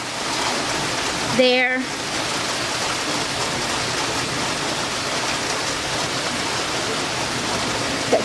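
Steady rain falls in Auburn, Georgia, pattering onto standing water in a broad, continuous hiss that runs throughout, with a brief voice near the start.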